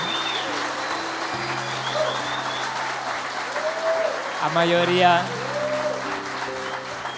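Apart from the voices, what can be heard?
applause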